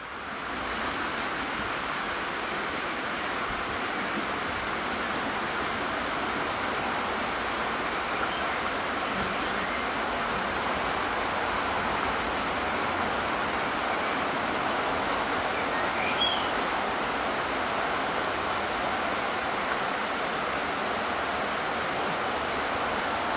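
Steady rushing water roars without a break, a dense broadband wash of river rapids close by, with no voices.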